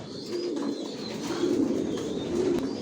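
Racer pigeons, vaccinated and leg-tagged, coo steadily in soft low rolling calls, close and clear, with a faint chirp above and no talk.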